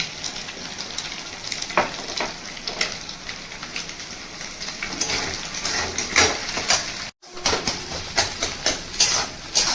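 Egg fries in a pan for street-style mixed chowmein: a continuous sizzle broken by repeated scraping spatula strokes, close up with a momentary dropout near the end and no talking.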